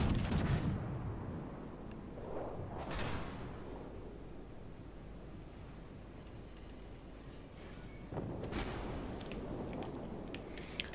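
Heavy naval gunfire from battleships in World of Warships Legends, including the Italian battleship Roma, with a couple of deep booming salvos rumbling out and fading against a low ambient background.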